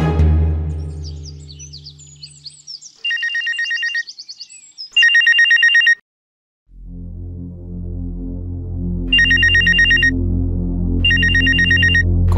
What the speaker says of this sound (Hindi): कौन फोन कर रहा है इतनी सुबह?